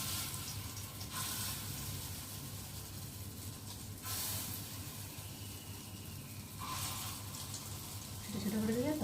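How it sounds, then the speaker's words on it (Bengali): Small lentil fritters (bora) frying in hot oil, a steady soft sizzle running throughout with occasional louder surges, faint and close, with no talking over it. "তো এখন আমি ছোটো ছোটো করে বড়াগুলোকে ভাজবো"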